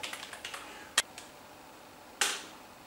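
Keys tapped on a computer keyboard while operating a media-center PC without a mouse: a quick run of soft clicks, then two separate sharper key strikes, close and fairly quiet with no talk.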